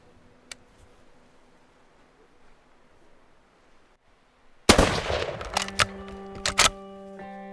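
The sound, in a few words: rifle gunshot while hunting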